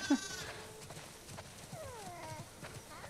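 Sheep bleat a few times in The Last of Us Part II amid soft shuffling and hoof sounds, the wavering cries fairly close and moderately loud.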